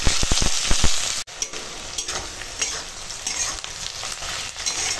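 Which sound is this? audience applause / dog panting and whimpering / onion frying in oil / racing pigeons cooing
onion frying in oil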